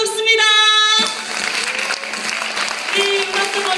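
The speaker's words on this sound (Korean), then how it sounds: "박수 받으세요." Audience applause at the opening of a celebratory concert, a sustained tonal note ringing out first, then broad crowd clapping that holds steady and swells again near the end.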